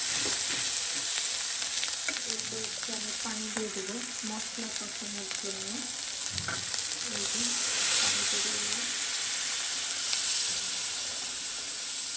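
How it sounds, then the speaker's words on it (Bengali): Turmeric and chili frying in hot oil give a steady, close sizzle and hiss throughout, while someone talks over it. "হলুদ আর মরিচ দিয়ে দিচ্ছি তেলে ভেজে নিই"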